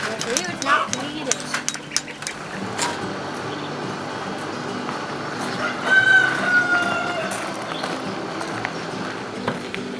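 Chickens squawk and cluck around a backyard coop being set up with nesting boxes, with the hens' calls scattered throughout, busiest in the opening seconds, under a steady background of voices and outdoor noise.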